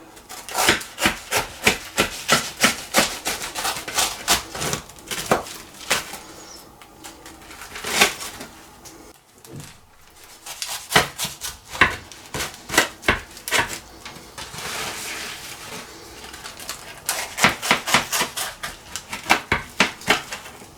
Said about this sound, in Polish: Pokroimy to piękne ciasto.